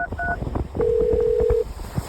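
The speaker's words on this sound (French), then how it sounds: "Je compose le numéro." Telephone keypad tones while dialing a number: a short pair of beeps, then one longer steady tone lasting under a second, over a low background hum.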